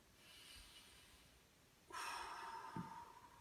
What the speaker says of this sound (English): Beach ball breathing, big breath while opening arms wide and then overhead like this.